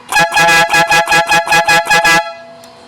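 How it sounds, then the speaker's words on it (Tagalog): A loud dual-contact car horn honks in a rapid series of about nine short, rhythmic blasts, close by, then stops, leaving a faint hum. "Sa pagkakabit ng dual contact na busina para kay Dan"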